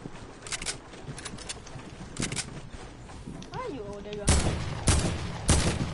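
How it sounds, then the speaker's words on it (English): Burst rifle fire in a video game squads match, sharp clustered shot bursts rising louder near the end, mixed with other game effects and occasional chatter. "It's a burst rifle."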